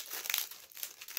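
Pages of a grass-paper notebook crinkle and rustle as they are handled and turned, a soft, close, continuous papery crackle.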